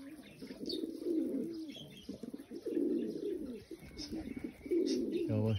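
Pigeons coo in repeated low, throaty rolling calls close by at an outdoor bird market, with scattered faint chirps and rustling between the coos.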